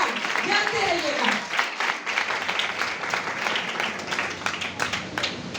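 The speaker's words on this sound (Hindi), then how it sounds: "हालेलुया, जोरदार तालियां बजाएंगे।" Congregation at a Sunday church service in Urdu breaks into loud, sustained applause and clapping, with a preacher's voice speaking over it at the start.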